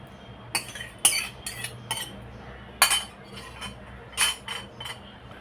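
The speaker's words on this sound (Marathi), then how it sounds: "त्यासाठी मी या गाळणीत घालून आपण हे दही फेटून घेऊया." A metal utensil beats curd (dahi) inside a kitchen strainer, giving sharp intermittent clinks and scrapes in an irregular rhythm, close and fairly quiet, without talk.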